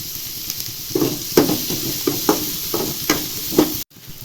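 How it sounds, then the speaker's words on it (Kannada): Onions and cumin seeds fry in oil, a loud close sizzle broken by repeated scraping stir strokes in an uneven rhythm, ending with a brief cut to quiet. "ಚೆನ್ನಾಗಿ ಫ್ರೈ ಮಾಡ್ಕೊಳ್ಳಿ ಈರುಳ್ಳಿನ."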